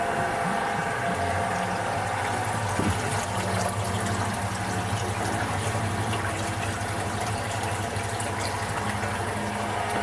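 A Wright TRA 10 stainless steel sanitary pump runs wet, hooked to a recirculating tank, producing a steady loud motor hum and continuous rushing, churning water with no breaks throughout.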